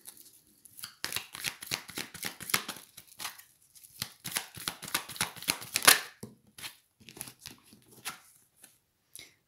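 Tarot cards are shuffled and drawn in a sequence of sharp papery slaps and flicks, close and clear, pausing near the end, with no speech.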